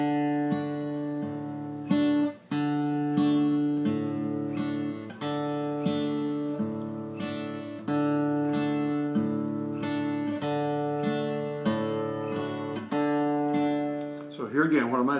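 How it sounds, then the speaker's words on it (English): Acoustic guitar fingerpicked in a steady four-count pattern, the thumb alternating between the fourth and fifth bass strings under ringing chord tones; close, clear and continuous with no talking. "I'm alternating between the 4th and 5th strings with my thumb"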